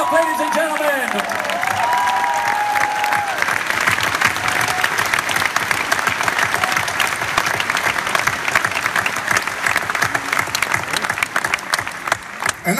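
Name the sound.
applause for the conductor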